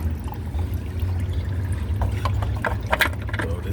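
Engine oil draining from a 2010 Toyota Corolla during an oil change, a steady low trickling pour with a few brighter splashes, close and continuous.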